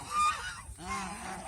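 Geese at a goose farm honk loudly and close by, two drawn-out harsh calls in quick succession with no talk over them.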